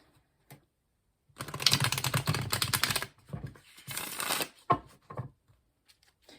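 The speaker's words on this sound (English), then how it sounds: "I like to give them a really good shuffle in front of the camera" Tarot cards are riffled and shuffled in two brisk bursts separated by a pause, with a few soft taps and handling sounds around them.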